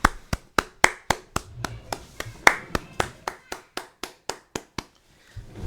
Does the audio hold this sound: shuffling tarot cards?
no